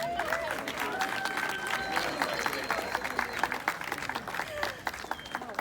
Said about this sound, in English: Please give everybody another round of applause.